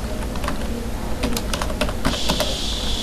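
Rapid typing on a computer keyboard while writing C++ code, with a steady stream of close, crisp key clicks and a few louder taps in the middle, heard alone without speech.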